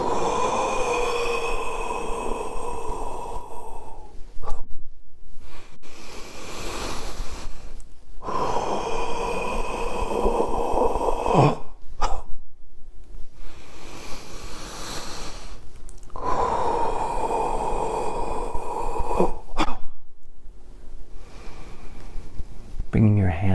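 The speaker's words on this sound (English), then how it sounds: "breathing in." Slow, deep inhalations during a guided Taoist healing breath exercise, several long drawn breaths separated by brief pauses, close and soft with no talking.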